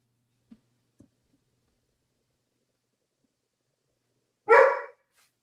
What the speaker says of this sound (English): That damn dog.